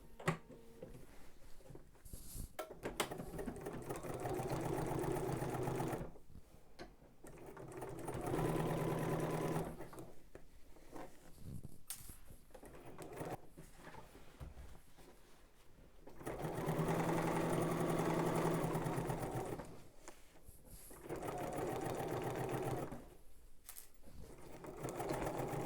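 Sewing machine stitching a pocket closed on a garment, several loud bursts of rapid mechanical whirring separated by short pauses, close and alone.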